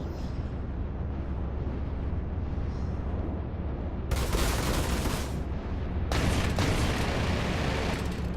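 Gatling guns and lasers fire from a ship in the space combat game Arena Commander: a steady engine rumble gives way to two loud, sustained bursts of rapid gunfire, the second running to the end.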